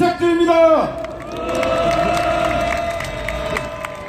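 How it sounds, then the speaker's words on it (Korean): A crowd at a labor union general strike rally applauds and cheers outdoors, a sustained roar of clapping and shouts rising after a voice with a loudspeaker tone cuts off. "연대의 정을 담아 서로에게 힘찬 격려의 박수 부탁드립니다"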